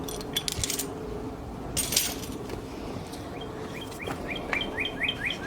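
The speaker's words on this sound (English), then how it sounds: "Sound like we got a bird in the audience." Bird chirping from a nearby tree outdoors, a run of quick repeated high tweets in a burst toward the end, moderately distant over faint background rustle and a few small clinks.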